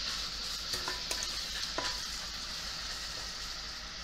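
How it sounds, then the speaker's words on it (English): Sugar melting and caramelizing with sweet potatoes in a pan, a faint, steady sizzle with a few soft stirring clinks near the start. "Once the sugar melts and caramelizes little bit,"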